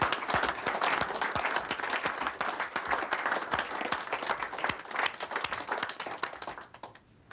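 Office staff applaud together on a workplace floor, a dense, loud wash of many hands clapping steadily for about six seconds before tapering off abruptly.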